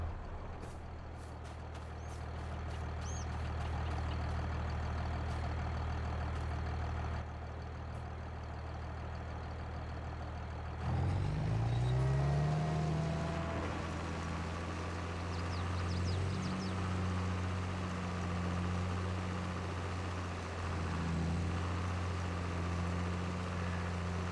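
A tractor engine in the video game Farming Simulator 22 drones steadily at low pitch, with a hiss and clatter partway through, then rising and falling engine tones as the machine works. No one talks over it.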